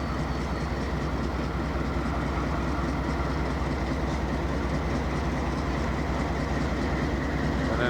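A coal train with distributed power rumbles steadily past, a continuous low roar of rail cars and wheels on track at a moderate distance.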